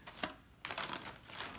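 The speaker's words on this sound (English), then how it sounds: "I'm going to use this plastic bag as a" A plastic bag is handled and crinkled at a bedside while a sterile field is set up, giving soft, close rustling bursts with brief quiet gaps between them.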